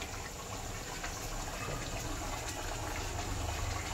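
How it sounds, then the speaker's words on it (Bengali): Water poured into a chicken and potato curry in a pan, a steady, even rushing pour that continues without a break, fairly close, with no talking. "এটা সামান্য জল দিতে হবে"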